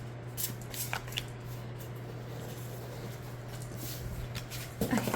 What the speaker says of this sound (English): And then side shuffling, it is a little bit slippery, I think,